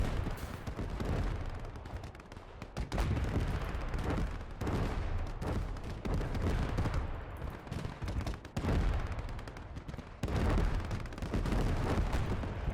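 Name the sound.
gunfire from a firing line in the video game Gates of Hell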